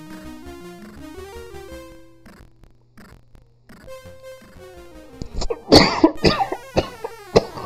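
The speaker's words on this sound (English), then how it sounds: "I do apologise about this coughing." A man coughs in several sharp, loud bursts near the end, close to the mic, after a stretch of chiptune music from the C64 game Pac-Mania.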